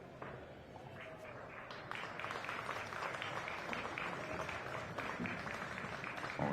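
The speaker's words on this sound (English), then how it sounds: "Oh, we hear some claps in the background" Scattered applause from a crowd drifts in from another table at a 10-ball pool championship, a soft, continuous patter of claps that builds slightly and stays distant throughout.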